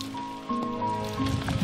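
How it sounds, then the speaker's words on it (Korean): Autumn rain falling under cloudy skies, a steady soft patter mixed with a faint tonal hum in the background, no talk. "흐려진 날씨, 가을비가 내리는데"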